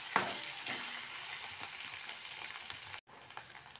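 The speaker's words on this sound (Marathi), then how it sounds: "आता याच्यात आपण खोबरं टाकू आणि खोबरं पण 2 मिनटं परतून घेऊ" Grated coconut sizzles in hot oil in a pan alongside tomatoes for a soaked-chickpea curry: a steady, close frying hiss with occasional stirring scrapes, breaking off for a moment before resuming.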